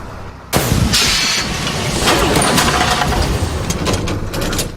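A faulty vehicle's engine catches abruptly, then holds a loud, steady rumble close by for several seconds.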